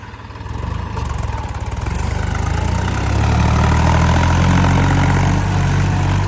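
A Massey Ferguson 254 tractor with rear tyres fitted, its engine idling nearby in a loud, steady low rumble that grows slightly louder and stays even throughout.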